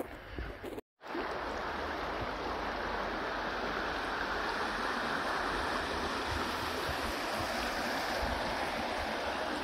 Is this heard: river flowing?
yes